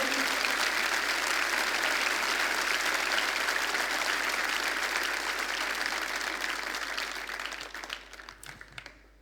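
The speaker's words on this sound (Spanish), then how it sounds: "denle un aplauso fuerte a Dios" A church congregation applauds loudly and steadily, a dense wash of clapping that holds for most of the stretch before slowly thinning out toward the end.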